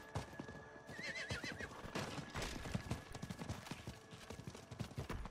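A horse ridden in the video game Diablo IV, with steady rapid clip-clop of hooves throughout and a brief whinny early on, all fairly quiet and with no talking.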